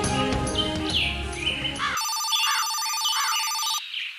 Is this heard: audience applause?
no